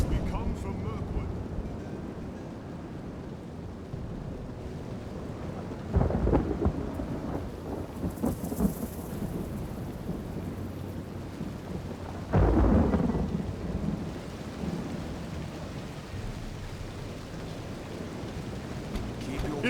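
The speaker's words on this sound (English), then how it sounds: "It's raining. Bloody raining, hey?" Steady heavy rain pours throughout a video game battle scene, with two loud rolls of thunder rumbling through the downpour and faint voices beneath the storm.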